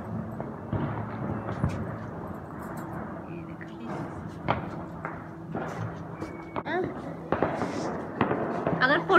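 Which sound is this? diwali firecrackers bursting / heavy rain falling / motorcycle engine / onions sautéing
diwali firecrackers bursting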